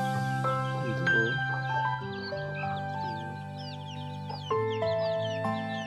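Chickens clucking and squawking close by, several birds calling over a steady musical background.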